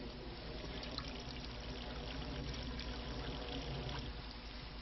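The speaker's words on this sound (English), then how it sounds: "What we do now is pour the water through this and collect at the other end." Water poured through an improvised sock filter packed with charcoal, sand and moss, a steady continuous trickling and splashing that runs unbroken and fairly close, with no talking.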